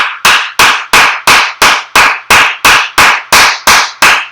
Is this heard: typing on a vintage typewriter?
no